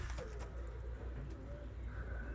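A female grey pigeon coos softly inside a pigeon loft, low repeated throaty notes, faint and close against a quiet background hum.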